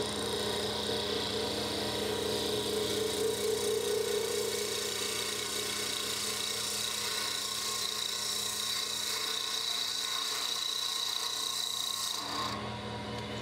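A woodturning gouge cutting a small wooden vase blank on a spinning lathe, a continuous loud rasping, whirring shear over the motor's hum that cuts off abruptly near the end.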